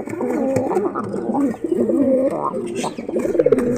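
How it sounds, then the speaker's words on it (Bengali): Domestic pigeons cooing close by, a few low throaty rolling coos in quick succession with brief pauses between them, clear and near with no talk. "দরজাল বাবার বউ অন্য কবুতরের সাথে যে জোড়া নিছিল"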